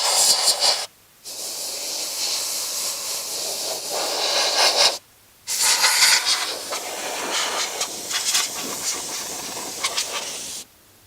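A compressed air duster blasts dust out of a PC, loud hissing sprays in long bursts separated by two brief pauses, with a sputtering texture as the air hits the components.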